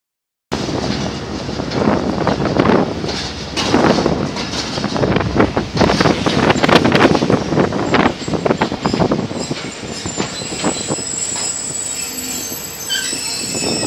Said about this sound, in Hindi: कोई ट्रेन वगैरह आती है तो मैं उसका व्यू वगैरह आपको करवा देता हूँ